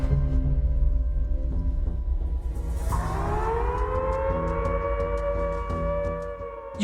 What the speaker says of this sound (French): une sirène a retenti dans le camp